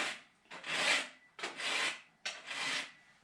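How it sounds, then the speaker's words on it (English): Hand file rasping across a chainsaw chain's teeth, three distinct strokes in steady rhythm, each a bright scraping rub, close and fairly quiet with short pauses between. "the same thing occurs when you sharpen your chainsaw."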